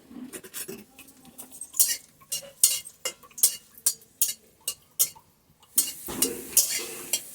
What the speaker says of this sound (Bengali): তো দিয়ে দিলাম শুকনো লঙ্কা 3টে